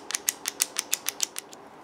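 A RunCam Scope Cam being screwed onto its mounting rail, about ten small, evenly spaced clicking ratchet ticks at close range, fading toward the end, with no talking.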